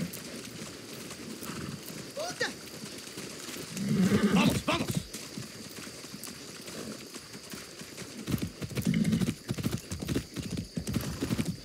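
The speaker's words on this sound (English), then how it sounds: "That's a good horse." Horse hooves clip-clop in the Far Cry 6 video game, two short bursts of steady trotting steps at moderate distance amid game ambience and background chatter.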